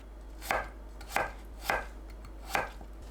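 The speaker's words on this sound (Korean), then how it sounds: "감자를 1cm 두께 스틱 모양으로 썰어주세요." Knife chopping potatoes into 1 cm sticks for tteokbokki: four crisp, evenly spaced cuts about half a second apart, close and moderately loud on a quiet background, with no talking.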